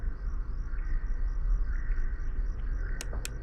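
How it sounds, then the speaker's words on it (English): Crickets in a video game chirp in a soft, regular pulsing trill over a low background rumble, with a couple of sharp clicks near the end. "Those crickets are louder than anything."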